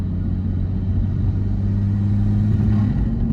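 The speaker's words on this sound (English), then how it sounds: "The thing that we'll probably hear inside of the car is also the intake sound." Tuned car engine intake heard from inside while driving, a loud steady low rumble with a droning hum that rises slightly in pitch near the end, continuous and close.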